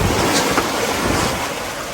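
Ocean swells roll against a sailing boat crewing down the coast from Ketchikan, Alaska, a loud, close rush of water with heavy wind noise on the microphone, continuous and slightly easing toward the end.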